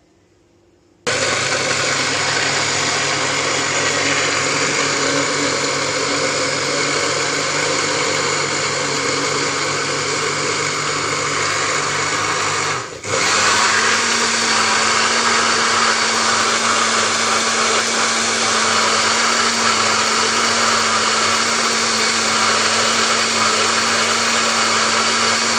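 A blender whirs banana, sugar and milk into a shake, starting abruptly and running loud and steady, with a brief dip midway before the motor settles into a slightly higher pitched drone that continues to the end.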